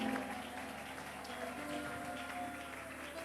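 A church congregation at a thanksgiving service applauds and cheers to welcome a pastor, a steady wash of clapping and crowd noise at moderate distance with a faint voice underneath.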